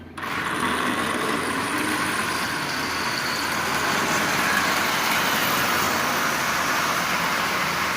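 A Marx 799 toy train with a newly installed headlight pulls a ten-car consist of plastic cars. Its motor makes a continuous, even whirring buzz with a rattle, close and loud, and it runs without a break.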